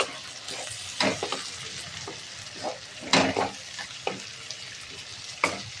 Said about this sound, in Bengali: এবার আমি কুচো করা টমেটো ও কাঁচা লঙ্কা দিয়ে একসঙ্গে ভেজে নেব।